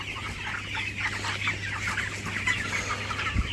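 Broiler chicks in a poultry shed chirping and clucking in a steady, busy chorus, moderately loud, with a low constant hum underneath and no talk.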